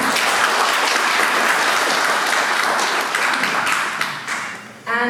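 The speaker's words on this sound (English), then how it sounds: "let's give a really great applause for everyone who made this trip" A conference audience breaks into dense, loud applause that holds steady, then thins out near the end as a sharp electronic tone cuts in.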